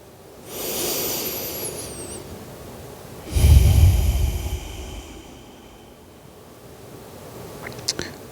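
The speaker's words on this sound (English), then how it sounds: "One more breath here." Slow, deep breaths during a yoga stretch: a soft airy inhale around the first seconds, then a stronger, louder exhale through the middle, fading to quiet near the end, close and unaccompanied by talk.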